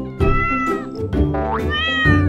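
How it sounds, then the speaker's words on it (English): A cartoon cat meows in a children's alphabet cartoon, several loud, tonal, drawn-out mews in a row, the last rising and wavering, heard alone and close. "C is for cat."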